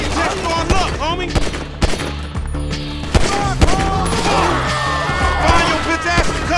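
Gunfight gunfire from GTA 5, with dense bursts of automatic and single shots crackling close and loud throughout, mixed with shouts and game effects.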